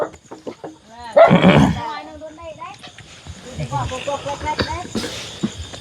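Chicken clucking and squawking mixed in with people talking nearby, fairly close and moderately loud.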